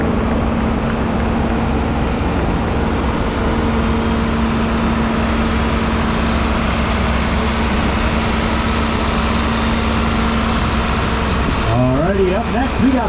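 A 1978 John Deere 4440 tractor rolls past at an outdoor parade, its diesel engine giving a loud, steady, close rumble with a constant low hum throughout, and a brief voice rising over it at the very end.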